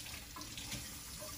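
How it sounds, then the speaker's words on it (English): Warm running water from a tap splashes over hands being wet before soaping, a steady close hiss with no talk. "You want to wash your hands with warm water, but not hot, because you don't want to burn yourself."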